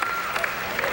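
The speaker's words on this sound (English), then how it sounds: "There's his family up and cheering" Family cheering in the stands right after a pin at a senior all-star wrestling meet, a brief burst of applause and crowd noise with a commentator talking over it.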